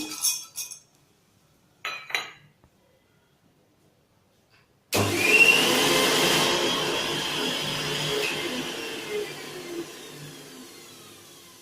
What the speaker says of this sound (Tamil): முதல்ல வேர்க்கடலை மட்டும் மிக்ஸி ஜாரில் போட்டு